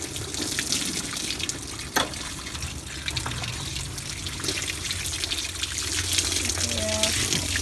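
Water from a hose sprays and splashes steadily while a horse is washed, a continuous close wash of running water throughout.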